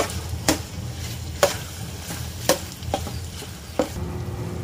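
Ginger garlic paste being stirred into chicken frying in a pan, a soft continuous sizzle broken by several sharp scraping clacks of the spoon against the pan at irregular intervals.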